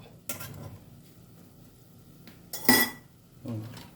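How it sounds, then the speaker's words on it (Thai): A lid clanks onto a pot of Lao-style baked glass noodles, with three short metallic knocks and clinks spaced across a few seconds over a quiet kitchen background. "เดี๋ยวเราก็จะใช้ ตัว ฝามาปิดนะครับ"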